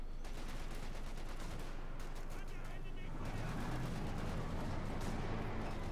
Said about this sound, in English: Mortar firing down against Dave's troops as they push ahead here for America, freedom and oxygen